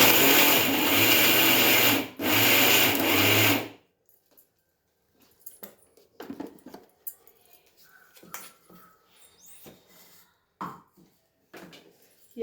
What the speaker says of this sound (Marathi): लसणाची चटणी आपण ही मिक्सरमध्ये फिरवून घ्यायची